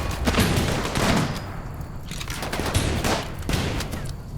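Gunfire and explosions in the colony-building video game Rimworld, rapid bursts of shots and booming blasts crowding together in dense volleys.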